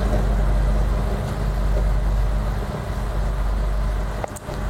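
FPV drone motors spin steadily with a continuous loud whirring hum that stays close and constant, with a slight dip near the end, on a drone being checked for reversed motor direction.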